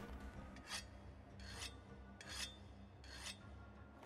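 In the Monster Hunter World video game, a weapon is sharpened on a whetstone with four evenly spaced, raspy scraping strokes, close and alone.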